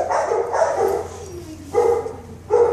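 Yorkie barking loudly and close, three separate short barks spaced out with no talk over them.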